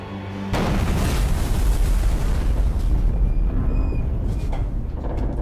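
A torpedo strikes a warship in a war film, a deep booming explosion that bursts in after half a second of quiet and rolls on as a loud, sustained rumble to the end.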